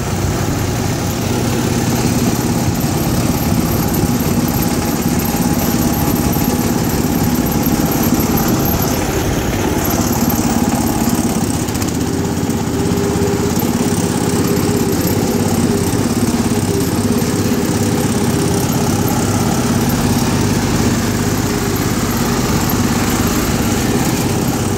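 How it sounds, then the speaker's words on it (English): A garden tractor mower engine drones continuously and loudly close by, a steady buzzing run with no pauses or voices. "Yeah, that's his mowing machine."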